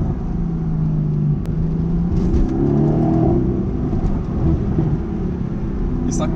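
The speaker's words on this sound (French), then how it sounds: "Et ça craque, ça pète à chaque downshift, ça pète." A Mercedes-AMG GT S engine heard from inside the car on a drive in Morocco, a steady loud rumble with shifting engine tones, the crackle and pop on downshifts not clearly picked out.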